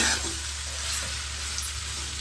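A tomato and grated dry coconut masala for spicy fish gravy is stirred in a pan, giving a steady close sizzle and hiss of frying with soft scraping and no voices.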